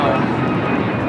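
A KLM Boeing 787-10 Dreamliner arriving from Amsterdam at LAX roars loud and close with a steady, continuous jet engine rumble.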